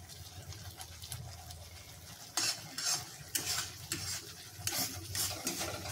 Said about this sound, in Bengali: এই অবস্থায় বারবার আমাকে খুন্তিটা মশলার মধ্যে নাড়িয়ে যেতে হবে যেন তলায় মশলাটা না লেগে যায়।